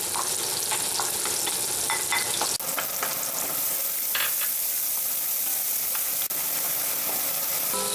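Diced onion frying in 2 tablespoons of oil in a very hot pan, a loud, continuous sizzle and crackle with occasional sharper spatters, steady from start to finish.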